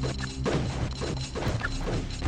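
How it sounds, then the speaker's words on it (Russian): A shot in the Grow Tower tower-defence game: crunchy, crashing impact hits repeating in quick bursts amid busy, loud game effects, without talk. "Какой-то выстрел."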